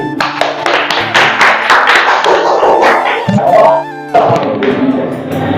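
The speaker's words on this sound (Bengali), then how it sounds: "জোরে হাততালি" A small group clapping loudly to welcome Sayan at a channel's two-year celebration, with brisk uneven claps and thumps close by, mixed with chatter and cheering.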